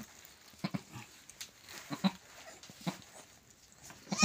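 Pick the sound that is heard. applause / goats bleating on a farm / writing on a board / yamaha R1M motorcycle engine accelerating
goats bleating on a farm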